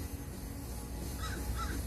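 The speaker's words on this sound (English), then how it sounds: "Oh my God, there's 100 crows" Crows cawing in a crowd of about a hundred birds over a rain-filled wash by a catch basin, harsh calls breaking out in the second half over a loud, rushing wet background.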